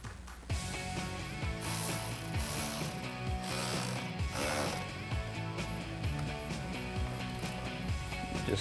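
Ratchet driving an 8mm socket to tighten hose clamps on an oil separator install in a 2019-2022 Chevrolet Silverado 1500 3.0 diesel, rapid close pawl clicking in steady runs with short pauses.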